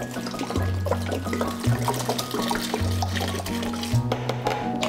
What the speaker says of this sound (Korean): 그리고 물 4리터를 부어요.